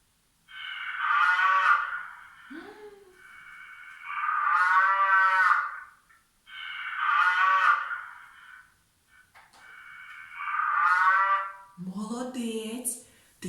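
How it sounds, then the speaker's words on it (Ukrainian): A cow moos four times, long and loud with pauses between each call, followed by a brief different vocal sound at the end. "яка тваринка так говорить? Правильно, корівка."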